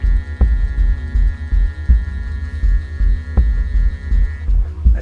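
GWR freight model train set with brake van running slowly on its track, giving a steady loud mechanical hum and throbbing motor drone with periodic clicks and knocks, no talking.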